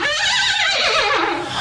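A horse neighs loudly in a sustained, quavering whinny that rises and falls throughout, heard alone without any talking.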